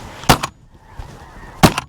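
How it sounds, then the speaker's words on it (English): Snow geese honk on a hunt, with two loud, sharp honks close by, each a quick double note, separated by a quieter gap holding a fainter call. "Snow goose."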